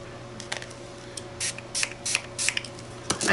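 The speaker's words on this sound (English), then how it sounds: "It's just a spray acrylic." Short bursts of spray hiss from an aerosol can of acrylic spray paint, several quick puffs in an irregular rhythm over a quiet background hum.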